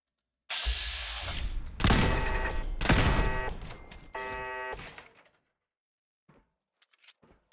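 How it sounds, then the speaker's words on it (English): Automated turrets in Fallout fire in loud, rapid bursts of machine-gun clatter for several seconds, then cut off, leaving only a few faint distant ticks. "Pretty serious turrets."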